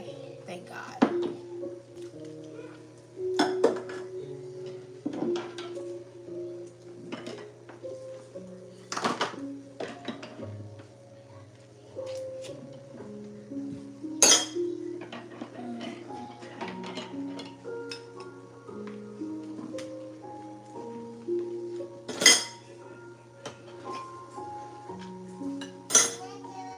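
Dishes being washed during a late-night kitchen clean, with cutlery and glassware clinking and clattering in irregular bursts, some sharp loud clanks among softer knocks, over a steady running-water hum; a voice talks briefly.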